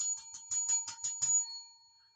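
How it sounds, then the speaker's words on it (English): A bicycle-style bell sound effect on a live stream rings rapidly about eight times in a bright, clear burst, then the last ring fades out into silence. "Ring the bell."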